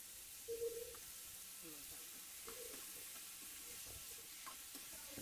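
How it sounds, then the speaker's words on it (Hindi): Soft, faint sizzle of onions sautéing in a pan for anda masala, with a few light scrapes of stirring, heard under quiet talk. "नरम होने तक सौते करेंगे और उसमें बीच बीच में हिलाते रहेंगे"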